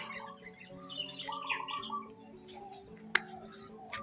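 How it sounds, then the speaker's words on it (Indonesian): Birds chirp and tweet in a backyard cassava garden, with light insect-like trilling and a brief sharp click near the end, steady and moderately distant. "Burungnya berkicauan pemirsa."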